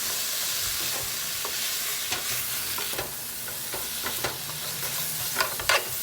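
White wine vinegar, vegetable demi-glace and sun-dried tomatoes are being stirred together in a hot pan: a soft continuous sizzle runs underneath while the utensil scrapes and clicks against the pan in irregular bursts, close up and with no talking.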